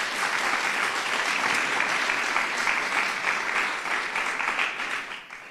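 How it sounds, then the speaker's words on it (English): An audience applauds steadily at a New Jersey event celebrating universal pre-K, a broad wash of many hands clapping for about five seconds before beginning to taper off. "Shamelessly fishing for applause."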